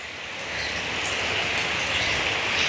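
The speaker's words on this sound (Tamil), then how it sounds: "பார்த்தீங்களா மழை கொட்ட தொடங்கிட்டு" Heavy rain pours down steadily at Keerimalai in Jaffna, a dense, continuous hiss that builds slightly and holds loud throughout with no voices.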